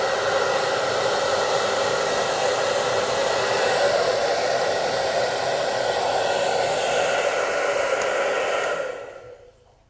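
A hair dryer blows continuously on a rabbit's fur, a loud steady whoosh that holds for about nine seconds, then quickly cuts off.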